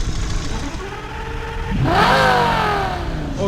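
A car engine running after a switch from petrol to LPG gas idles close by, then rises in a short rev and holds at a higher, louder pitch before the clip ends.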